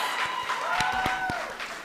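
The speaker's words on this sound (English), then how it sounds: "Let's give her that well-deserved, thunderous round of applause." A graduation crowd at UNAM in Windhoek breaks into a brief, thick burst of applause, many hands clapping at once, with a sustained high vocal tone riding over the clapping.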